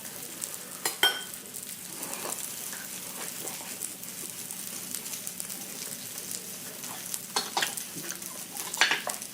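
Steak sizzles on a Korean BBQ grill, a steady close hiss of frying fat with occasional sharper crackles and the clink of tongs or utensils near the start and end.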